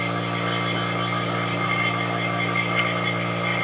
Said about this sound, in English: So, here we've got it hooked up to our engine.